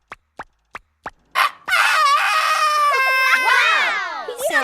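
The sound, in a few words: man imitating a rooster crow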